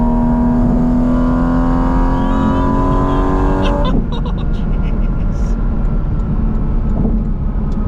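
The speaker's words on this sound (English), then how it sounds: "Oh, the downshifts are so crispy." A Porsche GT4 RS sports car revs hard and loud with a rising engine whine that cuts off sharply on the downshift, then settles into a rougher rumble.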